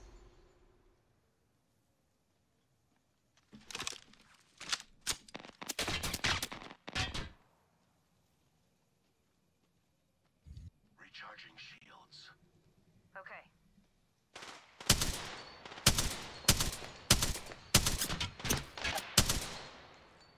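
Gunfire in Apex Legends comes in rapid automatic bursts, first around the middle and then in a denser, louder volley near the end, with quiet stretches and brief talk between them.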